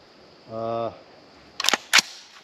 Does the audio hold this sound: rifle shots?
yes